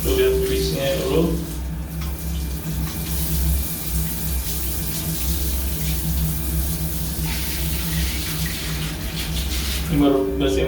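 Water splashes and gushes steadily as a bathroom floor is rinsed after scrubbing with an electric spin scrubber, a continuous loud pour with brief voices near the start and end.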